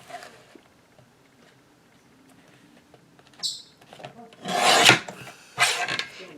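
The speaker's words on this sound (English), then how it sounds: "I will trim this card down." A recycled Christmas card being trimmed: quiet handling at first, then several sharp, close rasping cuts and scrapes near the end.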